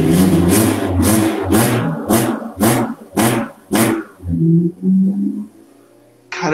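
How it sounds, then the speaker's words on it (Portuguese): VW Gol fitted with a Honda K20 engine revs in a series of sharp, loud throttle blips, eight quick rising bursts followed by a lower burble and settling idle. "Dá uma aceleradinha."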